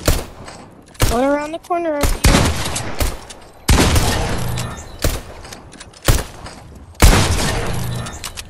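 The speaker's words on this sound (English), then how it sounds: "I'm shooting them." Gunfire in a video game: repeated loud bursts of shots in several spaced volleys, with players talking over and between them.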